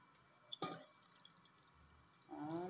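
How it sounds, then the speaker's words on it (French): Water is poured into a simmering foufou sauce, with a few faint drips and small splashes followed by a short burst of pouring liquid at the end, all quiet and close. "Je vais ajouter un peu d'eau encore."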